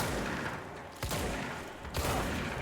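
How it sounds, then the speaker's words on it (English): Shotgun blasts in the video game Control, two heavy booming shots roughly a second apart over a dense, noisy game soundscape. "I love the shotgun."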